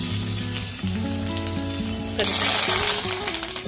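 Garlic with mustard seeds and cumin frying in hot oil for a dal tempering; a steady sizzle sits under music, then swells sharply louder and brighter partway through as more goes into the pan.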